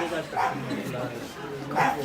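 Dogs bark in yips and short bursts at a live house auction at 10 Willow Avenue, Glen Waverley, heard twice about a second apart under an auctioneer's loud ongoing talk.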